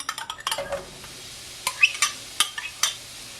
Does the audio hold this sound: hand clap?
no